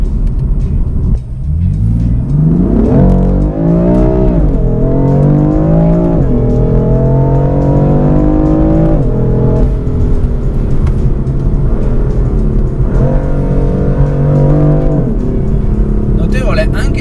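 A BMW M4 fitted with carbon-ceramic brakes accelerates hard through the gears, its engine note climbing and dropping with each shift, loud and close from inside the car.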